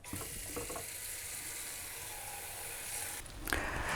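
Water runs steadily into a cooking pan for boiling pelmeni, a continuous close hiss and splash that shifts slightly near the end, with no voices.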